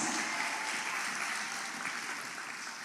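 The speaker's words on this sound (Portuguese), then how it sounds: "dá um aplauso ao Senhor" Church congregation applauding the Lord during a service, a dense, steady wash of clapping from many hands that holds evenly and fades slightly toward the end.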